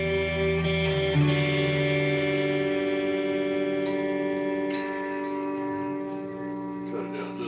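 ESP E-II Horizon FR 7 seven-string electric guitar on a clean tone, sustained chords ringing close and clear, a few softer picked notes and string clicks after, no voice.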